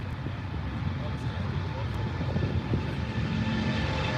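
Airliner jet engines at full takeoff thrust near Heathrow, a steady broad roar with a buzzing edge, moderately distant and continuous, with outdoor background noise.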